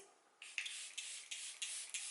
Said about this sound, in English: So I'm just going to spray my face.